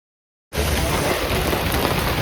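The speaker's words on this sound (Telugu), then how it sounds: "వర్షం అయితే ఫుల్ పడుతుంది మామ." Heavy rain falls as a dense, steady hiss of drops on a surface, beginning abruptly after a moment of silence and continuing at constant strength.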